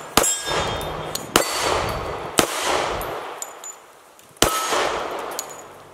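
A .45 ACP XDS pistol fires four shots at steel plate targets, each a sharp crack followed by a ringing metallic clang and a short decay, spaced about a second apart.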